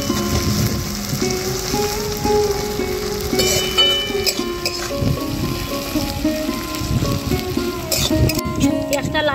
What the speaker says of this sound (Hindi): प्याजटा लाल लाल करे भेजे नेब।